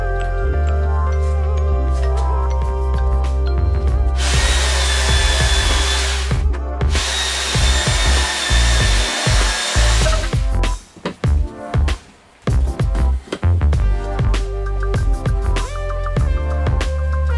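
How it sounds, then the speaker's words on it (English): Jigsaw cutting 2x4 wooden studs in a garage, a loud, close, continuous buzzing cut broken by short stops, then knocks and handling clatter of the wood. "I have to use my jigsaw to cut 2x4 studs."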